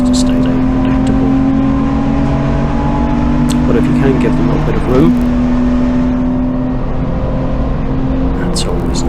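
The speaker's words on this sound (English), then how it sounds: "So the little orange Fiesta here is steaming through" Little orange Ford Fiesta race car steaming past on the Silverstone National circuit, its engine drone rising and passing under steady talk from a driver in his own car.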